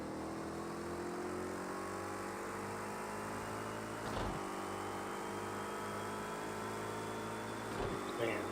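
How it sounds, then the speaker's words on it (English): An IMSA prototype race car engine at Daytona in Project Cars 2 drones steadily at high revs, a continuous tonal whine with brief gear-change dips, heard from inside the car. "man, the sound of this car is just super accurate"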